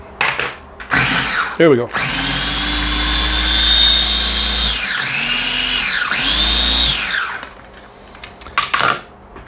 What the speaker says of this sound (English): in my blender, so that I'm going to puree some onions, some garlic